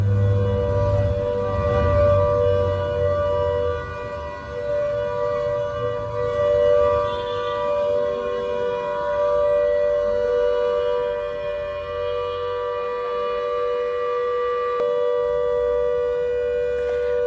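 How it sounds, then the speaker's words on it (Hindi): A civil defence war siren sounds for a mock drill, its steady wailing tones held for a long stretch and carrying over low background rumble, with no voices. "अब 54 साल के बाद एक बार फिर देश में जंग का सायरन बजने वाला है"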